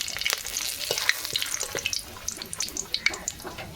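Dried red chillies and bay leaves fry in hot oil in a kadai, crackling and spitting with sharp pops over a continuous sizzle, close up.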